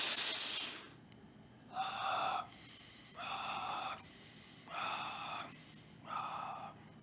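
Slow, deliberate breathing exercise for Frenzel equalization: a deep inhale followed by an extended exhale broken into four separate soft breathy bursts as airflow switches between mouth and nose, close and quiet with no talk.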